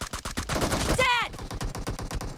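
Video game gunfire in a team match, rapid bursts of shots rattling close and loud, with a brief synthetic announcer-style voice cutting in midway.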